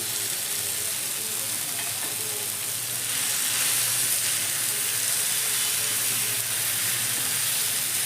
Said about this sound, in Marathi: तेलात छान भाजून घ्यायचे कोथिंबीर